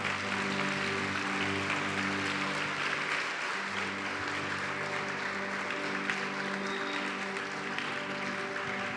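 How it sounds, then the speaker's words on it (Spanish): A church congregation applauds together at a Christian service, a loud sustained wash of clapping held steady for several seconds, with a low sustained tone beneath it. "¿Por qué no le dan un fuerte aplauso al Señor?"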